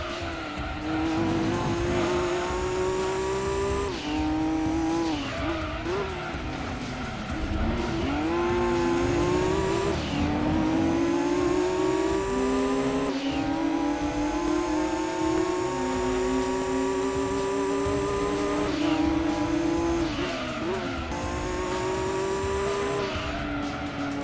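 A GT500 race car in Gran Turismo 2 roars around the track, its engine note climbing and dropping through repeated gear shifts, with tire squeals mixed in, loud and continuous without talk.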